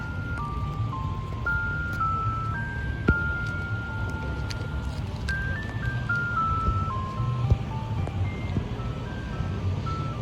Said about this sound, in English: This is the Thompson Lane ice cream truck right here with a Wolo 345.